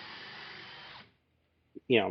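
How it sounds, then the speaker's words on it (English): A portable drill press runs with a steady, close whirring drone for about a second and then cuts off, followed by a short knock and the start of a voice. "this portable drill press has been a lifesaver"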